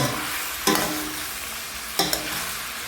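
Garlic and onion sauté in oil in a pan for adobo, a steady close sizzle with two brief stirring scrapes spaced about a second apart.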